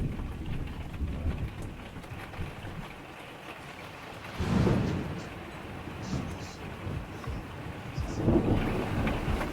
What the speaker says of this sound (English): That evening, that slow-moving storm finally caught up with us.